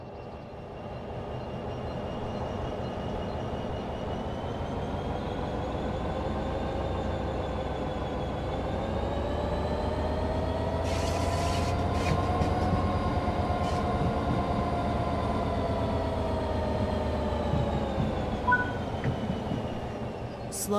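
A train from Train Sim World 4 moves off slowly once its brakes release, a steady low rumble with a droning motor tone that rises gently in pitch, plus a few brief clanks and a faint hiss, with no talk.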